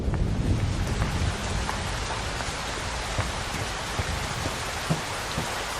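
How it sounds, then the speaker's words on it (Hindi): Steady rain pours down, a dense even hiss with scattered drops pattering close by, continuous throughout. "आ जाओ, बारिश आने वाली है,"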